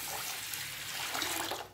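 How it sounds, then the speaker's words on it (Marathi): Water poured over rice and dal left soaking together in a vessel, a continuous close rushing splash that holds steady from start to finish with no voices. "आता यामध्ये पाणी घालायचं आहे, पाणी थोडंसं जरा जास्त घालायचं"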